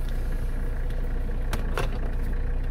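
A 1985 Mercedes 300CD engine runs steadily in gear as night falls, a close, even low rumble with a couple of faint clicks and no talk.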